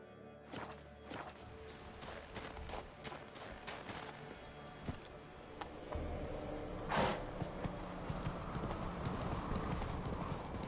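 Roach, the horse in The Witcher 3, with hooves clopping in a steady galloping rhythm throughout, sharp scattered impacts mixed into the busy game sound, and a faint neigh. A low rumble fills in during the second half.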